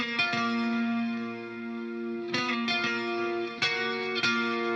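Two electric guitars through an ADA MP1 preamp, a Fryette amp and a Marshall Greenback cabinet impulse, with sustained chorused, effected chords and a few sharper strums, moderately loud and alone.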